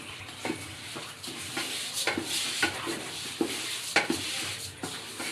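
Rice for morog polao fries in a pan as a spoon scrapes and stirs it in repeated rough strokes, with a soft sizzle underneath.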